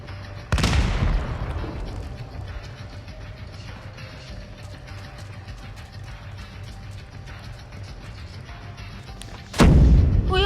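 Counter-Strike gameplay: a loud grenade blast opens, followed by a steady rattle of gunfire and mechanical game noise, then another sharp explosion at the end.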